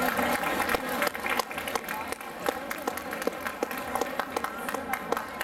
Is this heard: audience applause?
yes